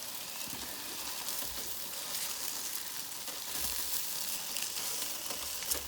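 Couple of steaks sizzling in a frying pan, a steady, moderate crackle and hiss heard close without speech.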